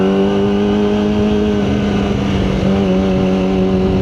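Kawasaki ZX25R SE KRT edition motorcycle engine running loud and steady, a continuous high-pitched buzzing hum with strong harmonics held for several seconds, no talking.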